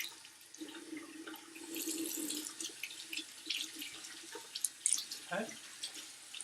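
Water runs from a tap into a sink in a steady, close hiss with splashing that shifts as hands move under the stream, and a person speaks briefly.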